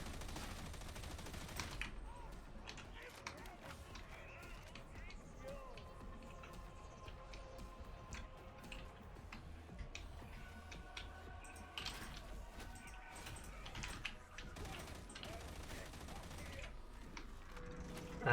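Gunfire while shooting enemies in the video game Darktide, rapid bursts and scattered shots crackling at low volume through the stretch amid mechanical clatter and busy game noise.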